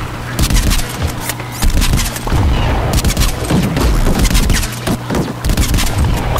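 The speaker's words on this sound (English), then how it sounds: "I'm just gonna fire in there with the D4 crossbow" Rapid, dense volleys of game weapon fire with booming impacts from a D4 crossbow in Plants vs Zombies, loud and continuous across the whole stretch with no talking.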